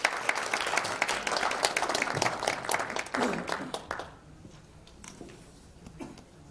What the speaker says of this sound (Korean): 여러분 환영의 박수 부탁드립니다.